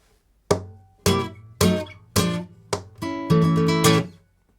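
Flamenco guitar strummed in sharp, punchy chords in a tangos phrase, six or seven rhythmic strokes with ringing decays, ending in a rapid flurry before falling silent.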